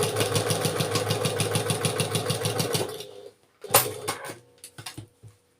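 A sewing machine stitches down the side of a 9 patch quilt block in a fast, steady run of needle strokes for about three seconds, then stops, followed by a few faint handling clicks and rustles.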